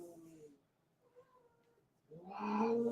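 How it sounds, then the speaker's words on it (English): Cats meowing indoors, a short meow at the start, a faint one midway, then a louder drawn-out yowl at the end, close by with no talk over it. "you hear the cats. One jumped on top of the other one."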